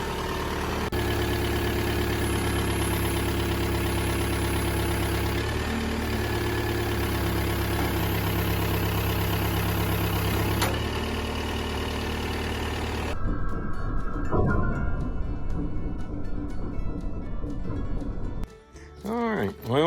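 A tractor with a bush hog mower hooked up idles steadily at a low, even rumble, with talk over it; a different, rougher mechanical sound takes over toward the end.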